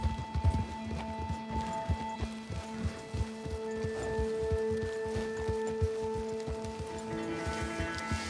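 Horses clip-clopping along a road in Red Dead Redemption II, with a steady rhythm of hoofbeats under a quiet ambient bed, no voices.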